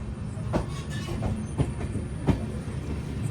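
An Amrit Bharat Express hauled by a WAP-7 locomotive runs on rails during its inaugural journey from Nagercoil Junction to Hyderabad. It makes a steady, close rumble with a few sharp rhythmic wheel clacks.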